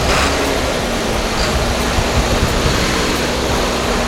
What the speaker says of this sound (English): now that's a sound of a big engine